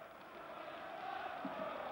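Scottish football fans cheer among a crowd of around 45,000 at Maksimir Stadium during a Yugoslavia–Scotland match: a steady, distant, continuous roar that swells slightly without breaks.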